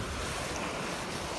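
Ocean waves wash continuously onto a beach, a steady broadband roar of surf mixed with wind noise on the microphone, with no distinct breaks.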